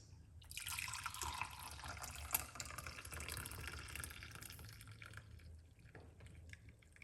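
Garlic tea is poured off the heat in a steady, trickling stream lasting several seconds, close and fairly quiet, with a brief splash near the end.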